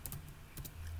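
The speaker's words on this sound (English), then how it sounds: "Alternatively, we could type in the alias for the form," Keys tapped on a computer keyboard while entering a form alias into a menu system, a few quick close clicks in a short burst with a soft background hum and no talking.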